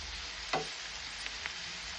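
Onions frying in oil for a prawn chutney, a steady close sizzle with one sharper crackle and a couple of faint taps from the pan.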